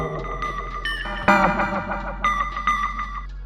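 A delay effect applied to a one-shot sample in an MPC keygroup program, with repeated melodic notes echoing and trailing off, alone and fairly loud with no talking.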